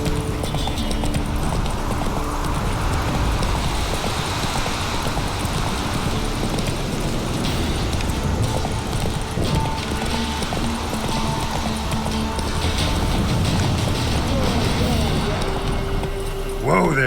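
Hooves of Roach, the horse in The Witcher 3, drum in a steady galloping clip-clop, close and loud over a busy game soundscape with some voice in the background.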